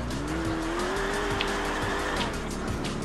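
Car engine in the video game GTA IV revving and droning steadily as the car drives and corners, with tire squeal and skidding sounds throughout, loud and continuous with no talking.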